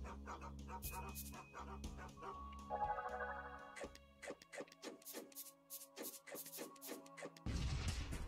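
Dogs bark in the video game Oddworld: Munch's Oddysee, a string of sharp, repeated yaps and barks in an uneven rhythm over a low game drone, closing with a burst of louder noise.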